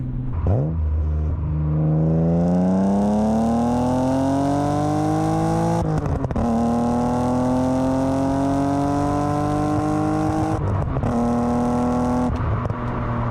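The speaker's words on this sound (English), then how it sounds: "Let's see how that sounded from the exhaust real quick." Car exhaust note from an engine misfiring on cylinder 1, revving steadily upward in a loud, continuous rising drone with brief dips near six and eleven seconds, close to the tailpipe.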